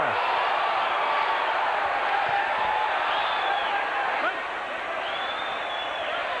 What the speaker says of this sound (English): This crowd in Tacoma is loving it.